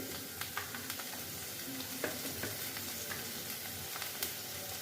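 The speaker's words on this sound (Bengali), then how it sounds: "আদা লঙ্কা বাটা দিলাম, নিয়ে এটাকে কষিয়ে নিচ্ছি আবার।" Ginger and chili paste sautés in hot oil for a mushroom curry, a steady close sizzle with regular scraping and tapping of a spoon stirring in the pan.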